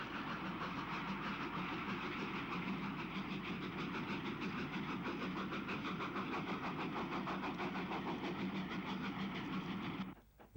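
Steam train with a Hall class engine and a 4100 class banker climbing a grade near Patchway Tunnel, a steady loud rumble with continuous rhythmic exhaust beats and wheel noise that drops away at the very end.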